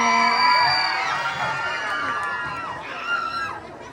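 Pageant crowd at Queen of Ilagan 2025 breaking into loud cheering and whooping, many overlapping high-pitched shouts swelling and sliding, fading slightly before a fresh burst near the end.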